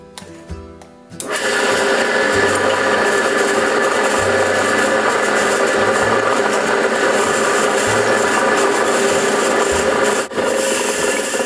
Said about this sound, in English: we'll take a 3/8 inch drill bit, we can drill a hole right there and right there